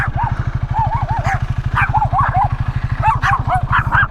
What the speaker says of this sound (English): There was all these dogs all of a sudden.